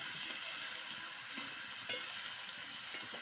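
Chili powder stirred into a simmering fish curry with bottle gourd stems in a pan, a steady soft sizzle broken by a few faint spoon scrapes and taps, close and quiet with no talk.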